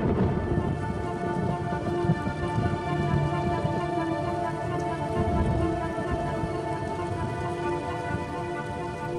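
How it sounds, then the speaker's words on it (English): Heavy rain pours down in a ceaseless torrent, a loud dense steady wash of drops striking surfaces with a deep rumbling undertone, continuous and unbroken. "the rains continue to fall in a ceaseless torrent"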